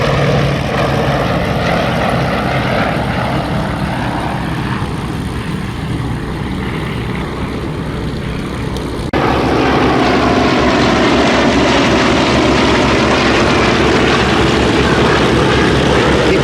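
A Yak-18T, a four- or five-seat Soviet cabin trainer, drones steadily at an airshow, its propeller engine loud and continuous, the tone shifting and rising partway through as it passes or changes power.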